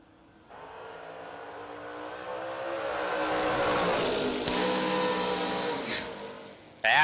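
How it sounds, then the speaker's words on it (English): At a drag strip, an Opel Manta and a 1967 Mustang launch side by side. The engines roar and climb in pitch through several gears, loud and sustained before cutting off abruptly. "here comes Wally Brasket, the Opel Manta, dialed 547."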